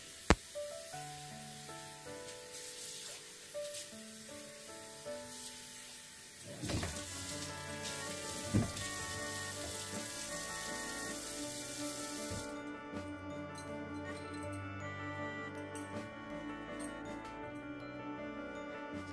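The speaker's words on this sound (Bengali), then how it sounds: "আমি সিঙ্কটা খুব ভালো করে ক্লিন করে নিচ্ছিলাম" Water runs steadily from a tap into a kitchen sink as it is scrubbed clean after washing chicken, a continuous wash of splashing that sits beneath a layer of steady tonal background sound.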